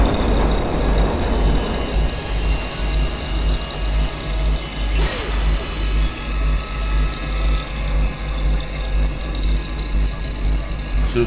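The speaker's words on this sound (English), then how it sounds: "Should have stopped the train a little bit earlier." In the video game Watch Dogs, a train rolls and brakes on its rails with a heavy low rumble, scattered wheel squeals and a sharp metallic screech partway through, loud and steady throughout without speech.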